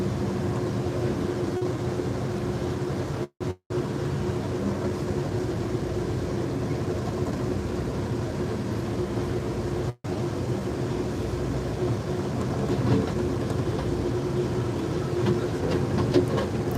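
An Amtrak California Zephyr passenger train picks up speed between Mount Pleasant, Iowa and Galesburg, Illinois, heard onboard as a steady rumble of wheels and car noise, with two brief dropouts and no talking.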